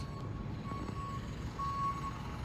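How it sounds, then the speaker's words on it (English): A truck leaves a tight subway construction site for the LA Metro D Line, with a faint, far-off reversing beeper pulsing in short tones over a steady low engine and street rumble. "looks like there's a truck driving right out of this area as well, through these tight quarters"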